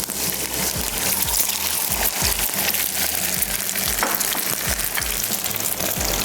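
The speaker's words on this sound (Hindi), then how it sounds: "ये जो थोड़ा सा अंडा है ये भी फ्राई कर लेते हैं" A small amount of leftover egg fries in a pan of oil beside potato patties, a steady loud crackling sizzle with occasional pops and spatters, continuous and close, with no talking.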